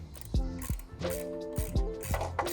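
Screws on an in-frame basket along an electric bike's down tube are turned with a driver, giving a few close ratcheting clicks with creaky squeaks between them.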